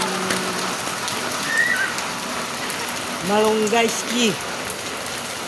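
Steady rain falls outdoors with a continuous patter on surfaces. Brief talk and a few whistle-like tones rise over it.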